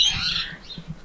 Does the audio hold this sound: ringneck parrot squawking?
yes